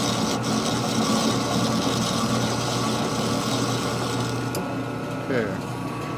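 A lathe runs with a continuous dense mechanical whir and faint ratcheting, cutting a thread on a Harley panhead engine part, steady and close throughout.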